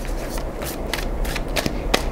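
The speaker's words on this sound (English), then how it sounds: "Two more shuffles, please." Tarot cards are shuffled by hand in a few quick riffling bursts, crisp papery flutters spaced unevenly over a couple of seconds, close and fairly quiet over a low background hum.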